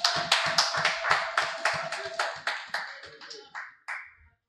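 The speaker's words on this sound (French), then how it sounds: "Jésus-Christ notre Seigneur, que nous acclamons très fort, justement" A church congregation at a Sunday service claps in a steady rhythmic beat, the roughly dozen claps thinning out and fading to silence.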